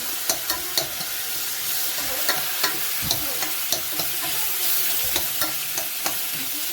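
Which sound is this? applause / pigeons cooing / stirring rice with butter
stirring rice with butter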